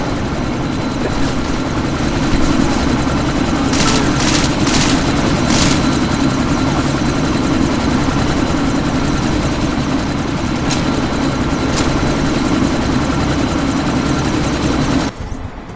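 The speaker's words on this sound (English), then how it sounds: "That chopper's about to take off." Helicopter lifting off in Deus Ex: Mankind Divided, a steady loud rotor roar and engine drone that runs throughout, with a few brief bursts on top, alone without speech.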